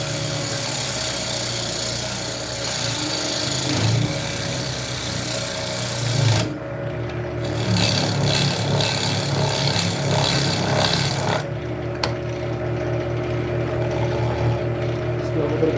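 Wood lathe spinning at about 2400 RPM, giving a steady loud mechanical whir with constant hum tones, broken briefly by a couple of sudden shifts in the motor sound, and no speech.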